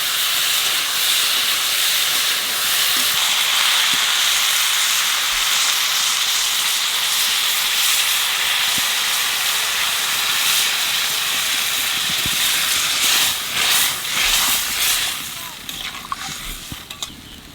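Water for a star fruit curry rolling to a boil in a pan after salt, turmeric and a little sugar go in with the fried star fruit, a steady close hiss and bubbling sizzle running throughout.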